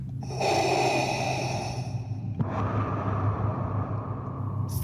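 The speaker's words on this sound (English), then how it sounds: "A man in what appeared to be a full suit of armor appeared in front of her, breathing heavily with consistent strides" Heavy mechanical breathing from Darth Vader in his armored suit in a Star Wars setting: a long hissing inhale, then a slower rasping exhale over a low hum.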